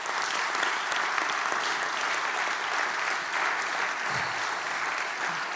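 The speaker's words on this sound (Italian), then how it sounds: "Chiedo un grande applauso di augurio di buon lavoro." A hall full of people at a small-business association's electoral assembly in Venice breaks into sustained, even applause, a thick steady clatter of many hands that holds throughout.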